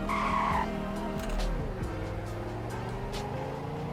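A classic car in the Roblox game Greenville, a three-speed with launch control, accelerates hard with tire squeal and a rising engine tone, loud and continuous throughout.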